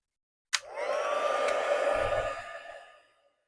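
A heat gun blows on gold embossing powder to heat-set it, switching on with a sharp click into a steady whirring hiss for about three seconds before winding down.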